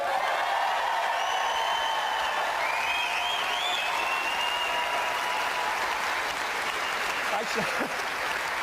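A live studio audience of nearly 1,000 people at a ghost-hunting broadcast in Edinburgh applauds, a dense, steady roar of clapping heard from within the room, with a faint whoop rising above it.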